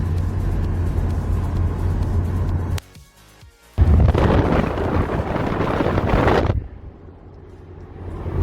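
Loud wind buffeting roars over a moving convertible with no windscreen, broad and blustery, dropping briefly for about a second before surging back, then easing to a quieter rush near the end.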